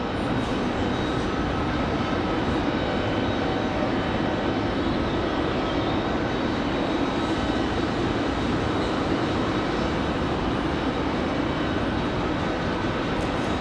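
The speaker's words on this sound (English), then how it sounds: "Copa up next for departure." A Copa Airlines airliner departs an airport, its steady, broadband jet engine roar continuous and fairly loud throughout, with no talking.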